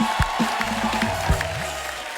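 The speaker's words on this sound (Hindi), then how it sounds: "जोरदार तालियां हो जाए मैम के लिए।" Studio audience applause and cheering greet a female guest on a Hindi comedy talk show, moderately loud and steady throughout, with a voice talking over it.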